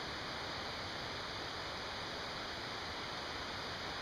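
Steady broadband rush of the Zig Zag River flowing nearby at an outdoor campsite, constant and unbroken with no voices.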